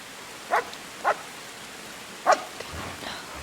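A dog barks three times in the Kingdom Come Deliverance video game, with sharp, mid-distance barks spaced unevenly over a soft rain-like background hiss.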